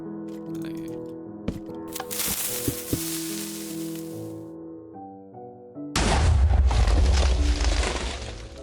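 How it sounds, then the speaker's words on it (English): Minecraft TNT blocks detonate all at once: after scattered game clicks and thuds, a sudden loud, rumbling blast erupts and roars on to the end. "detonating them all at once definitely gives me a greater sort of area of effect"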